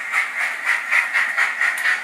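A computer-controlled model steam locomotive chuffs along in a steady run of hissing steam bursts, about four a second, close and fairly loud.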